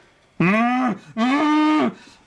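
A voice imitates a cow mooing, two long, loud, drawn-out lowing calls with a short gap between them, heard close and with nothing else around it.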